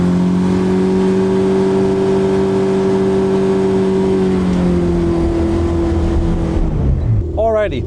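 A Ford Ranger pickup truck doing a burnout, its engine held at a loud, steady high rev for several seconds before the pitch winds down and then climbs again near the end, with no talk over it.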